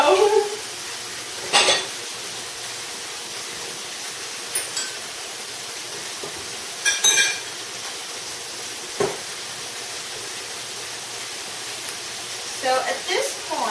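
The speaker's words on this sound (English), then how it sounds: "Put our dishes in the sink." Glass and other dishes clatter into a kitchen sink during home cooking, a handful of separate sharp clinks and knocks spread apart over a quiet room hum, with a voice faintly present.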